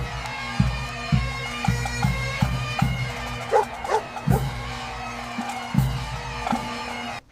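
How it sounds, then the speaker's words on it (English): A puppy barks and yips excitedly for a pancake outdoors on grass, with short repeated yaps and a few whimpers over a constant background drone. "Look at him barking for the pancake"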